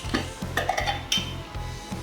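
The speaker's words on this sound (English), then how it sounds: "Now just to shake this up, we'll put a lid on it, get that mixed nice and evenly." Salt, pepper and garlic rub being shaken in a lidded container, a rhythmic series of close rattling shakes with grainy scraping, about six even strokes in a row.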